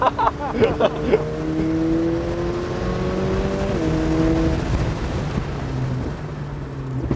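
A roofless McLaren Elva race car laps the Sepang circuit, its engine a steady, loud drone that climbs in pitch, briefly dips as it shifts gear, then keeps pulling hard alongside rushing wind.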